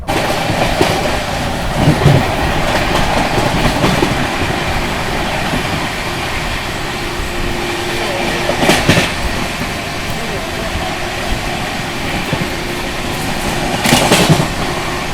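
Mumbai Rajdhani Express rolling at about 130 km/h, a steady loud rumble of wheels and carriage noise with rhythmic clatter bursts from rail joints, continuous throughout.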